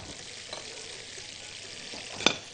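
Flour frying in butter and oil in a pan beside mushrooms, a steady close sizzle throughout with faint stirring and one brief sharp scrape near the end.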